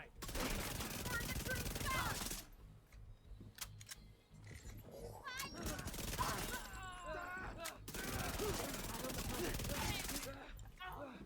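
Gunfire in The Division 2 from an SMG build in a firefight, heard as loud bursts of rapid automatic shots with heavy impacts and gaps between volleys, with a voice talking over it.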